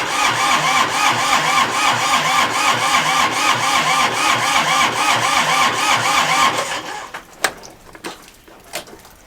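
A big farm tractor's engine cranks and fires up, settling into a loud, steady, rhythmic chug for several seconds before cutting back sharply, leaving a few faint clunks and knocks.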